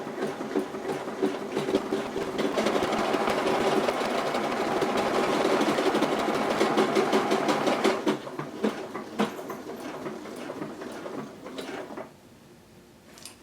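A Juki HZL-DX7 sewing machine stitching a buttonhole, running alone as a steady, fast, rhythmic whir for about eight seconds, then slowing into slower, separate stitch beats before stopping.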